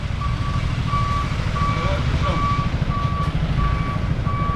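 A truck's reversing alarm beeps in a steady, evenly spaced rhythm while it unloads sand on a street in Kuta, Lombok, loud over a constant engine rumble and traffic noise.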